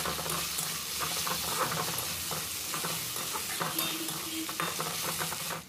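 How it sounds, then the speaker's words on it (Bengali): Ginger garlic paste sizzles in a pan while being stirred for a Bengali potato and pointed gourd curry, a steady soft frying hiss with scraping stir strokes throughout and no voices. "আদা রসুন বাটাটা হালকা ভেজে নিতে হবে, যাতে আদা রসুনের কাঁচা গন্ধটা চলে যায়।"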